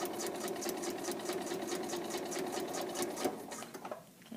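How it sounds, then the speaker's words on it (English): A sewing machine runs in a steady fast whirring rhythm as it stitches along a drawn line on fabric, close and continuous, then slows and stops near the end. "So I'm going to sew right on the line that I drew."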